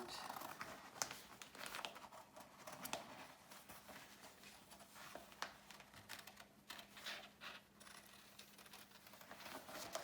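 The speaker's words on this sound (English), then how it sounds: "you're just gonna cut on what you traced all the way around" Scissors cut through paper-backed fusible web and fabric along a traced outline, giving faint, close crisp snips and rustling crinkles in an irregular rhythm, with no voice heard.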